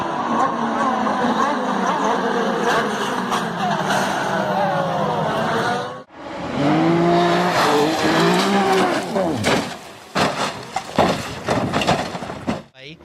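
Pro Mazda race cars scream past at speed in a multi-car racing wreck, engines wailing with falling pitch, followed by a sharp break, renewed engine howls and tire squeal, loud and close with crowd-like noise and bangs.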